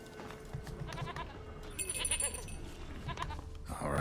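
Goat bleating in the video game The Witcher 3, a stubborn goat answering with several wavering bleats over steady game ambience and background music.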